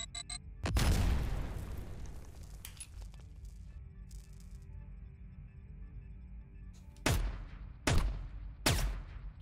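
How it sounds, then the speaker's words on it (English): Bombs exploding in the video game Squirrel With A Gun: a heavy booming blast followed by three sharper explosions in quick succession near the end, loud against a quiet game background hum. "Okay, those are bombs."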